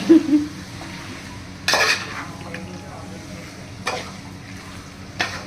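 Chicken is stirred in a pot and a lid is set on it, producing several metallic clanks and scrapes spaced a couple of seconds apart over a low background hiss.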